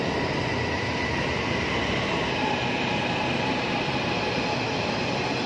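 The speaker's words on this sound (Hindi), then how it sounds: "ये है जी ट्रेन का स्टेशन, ये एक आ गई है, जिस पे हमने जाना है वो उधर से आ रही है।" An LRT train pulling into a station in Kuala Lumpur, a loud continuous rumbling roar with a hissing upper layer, heard close and steady throughout without any speech.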